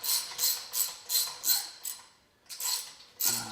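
A ratchet snugging bolts on the transmission of a restored International Farmall Super H tractor: a close run of rhythmic ratcheting clicks in short bursts, one brief pause, then more clicks, with no voices.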